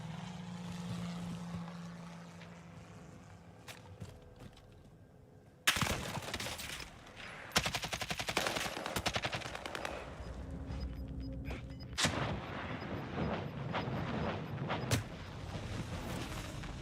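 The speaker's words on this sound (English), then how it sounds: "Strike inbound. Precision airstrike missed." A precision airstrike in Call of Duty: Warzone: sudden loud impacts and blasts over a low aircraft drone and gunfire, with repeated explosive bursts and crackling debris.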